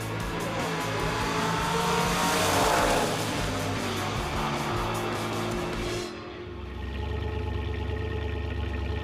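A Pontiac Trans Am with a bad clutch rumbles around the pits, its engine droning steadily with broadband road and tire noise, then dropping to a lower idle-like hum near the end.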